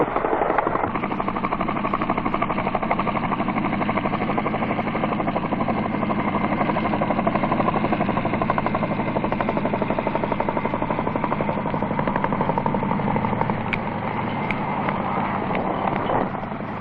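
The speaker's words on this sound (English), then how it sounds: "Heavy items are taken off the deck of HMAS Sydney by Skycrane helicopters" Skycrane helicopters lifting heavy items off the deck of HMAS Sydney at Vung Tau in 1968, with a steady, loud rotor and engine drone and a rapid rhythmic chop that runs unbroken throughout.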